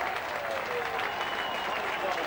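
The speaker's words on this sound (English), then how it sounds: "Nigel Mansell in front of the adoring British crowd," Crowd applause at the 1991 British Grand Prix, a dense, steady roar of clapping and cheering from a large grandstand crowd that stays loud and even throughout.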